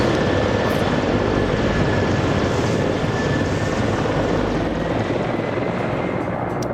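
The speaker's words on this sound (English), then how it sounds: "You got the Mi-24 now coming in. Flying a little low and slow." Mi-24 attack helicopter in a video game flying low and slow, a steady loud rotor and engine roar that holds constant without any talk.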